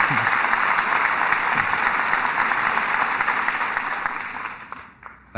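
Studio audience applauding the stars of a radio drama, Humphrey Bogart and Walter Huston, in a broad, loud roar of clapping that holds steady and then fades out over the last second.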